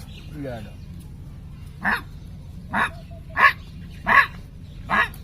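A dog barks five times in a slow, evenly spaced series, each bark short and fairly close over a low steady background hum.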